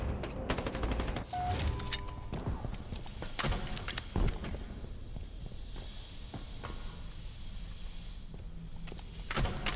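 Gunfire in Halo Infinite multiplayer crackles in bursts of rapid shots and single cracks, mixed with footsteps and game effects, fairly loud and busy with a voice briefly under it.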